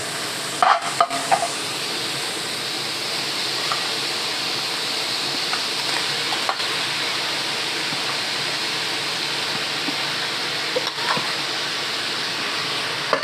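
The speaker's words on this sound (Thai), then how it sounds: "ผัดหมูสุกแล้วค่อยใส่ปลาหมึก" Minced pork being stir-fried in a pan for a Thai squid and basil dish, giving a steady, moderately loud sizzle with a few sharp scrapes and clinks of the spatula near the start, and no talking.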